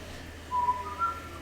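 Someone whistles a short, clear, steady tone that rises to a slightly higher second note, brief and fairly close against a quiet room hum.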